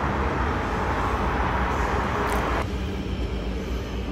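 A tram ride in Istanbul toward Flora Aquarium station, heard as a steady, fairly faint rumble of the rail vehicle rolling along, with a brief squeal midway and no talk.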